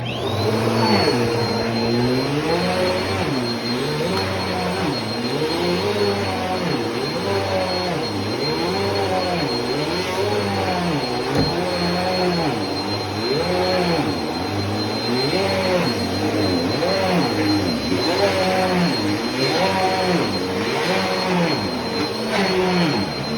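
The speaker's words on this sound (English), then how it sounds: "vacuuming this carpet is kind of hard to do with this machine" A Bissell Power Force Compact vacuum cleaner runs on carpet, a steady loud whine with a rhythmic wavering rise and fall as it is pushed back and forth, continuing throughout without speech.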